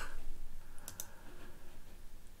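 Quiet clicking of keys on a computer keyboard in a 1996 point-and-click adventure game, a few soft taps clustered near the start and middle over faint background hiss.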